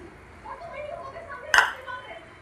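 A single bright clink rings out as sprouted salad with green grapes and jaggery sauce is spooned into a serving bowl, set against a quiet kitchen background.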